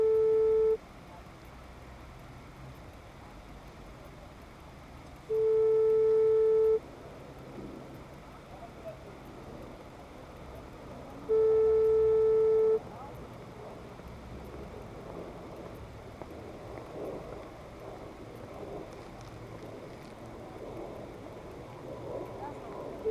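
A telephone ringback tone sounds while calling a local court in Pontoise, France: three evenly spaced long beeps over a steady background hum, the line ringing unanswered.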